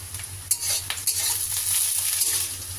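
Two small chopped onions and slit green chillies frying in hot oil, a loud continuous close sizzle with a few spatula stirs and scrapes.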